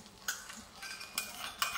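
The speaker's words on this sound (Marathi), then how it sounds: "या पद्धतीने गोल राऊंडमध्ये आपण फ्राय पॅनवर टाकायचं" Faint, quiet sizzling of an egg frying over low flame in a frying pan, broken by a few soft scraping strokes of a utensil against the metal.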